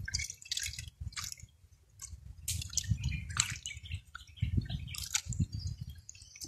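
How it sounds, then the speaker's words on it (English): Liquid banana fruit fertilizer dripping and splashing as it is sieved outdoors, irregular wet drips and squishy pours close by, with no talking. "So this is the sieving process to get the water"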